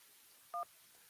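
A single short telephone dialing tone, a brief dual-pitched beep on a radio show's phone line, heard faintly over low background hiss.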